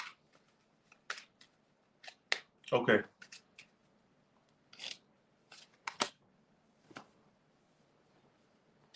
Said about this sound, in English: I'm shuffling the fuck out these cards